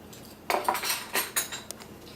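A spoon stirs yeast into warm milk in a bowl for feather roll dough, giving a few clinking scrapes against the dish, close and fairly loud, in short irregular strokes with quiet gaps between them.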